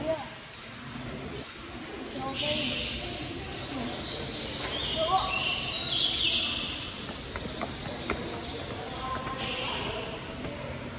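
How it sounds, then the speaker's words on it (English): Small birds chirp and tweet inside a bird house at the Smithsonian Zoo in Washington DC, scattered calls fairly faint behind a family talking over a busy indoor murmur. "there's all kinds of birds flying through here,"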